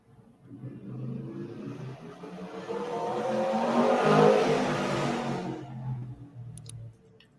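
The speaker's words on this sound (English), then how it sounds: "Was that a motorbike?" A motorbike passes outside an open window, its engine swelling to a peak over several seconds and then fading away, heard alone with no talk.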